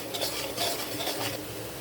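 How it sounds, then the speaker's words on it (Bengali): Chili powder fries in a pan for a curry while a utensil stirs it, producing a steady scraping and rubbing hiss with faint sizzle, close and continuous, with no talk. "মরিচের গুঁড়া কিছুক্ষণ কষিয়ে নেব, এতে তরকারির কালারটা বেশ সুন্দর আসবে"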